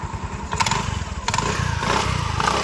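A motorcycle engine with a newly fixed clutch belt revs up close by, its rough pulsing idle rising into throttle blips with a couple of mechanical thumps along the way.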